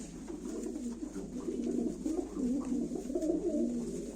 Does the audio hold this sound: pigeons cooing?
yes